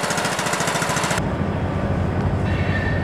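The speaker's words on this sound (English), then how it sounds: "The northbound train's just going by." A northbound train rumbles past, partly masked by a nearby lawn tractor engine that chugs loudly at first before the passing train's broader roar takes over.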